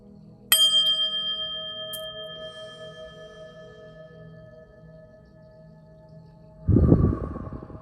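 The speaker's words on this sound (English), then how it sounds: "I'm going to ring this bell" A handheld bell struck once to clear energy rings out clearly and sustains, its pure tone slowly decaying over several seconds, before a burst of handling noise at the end.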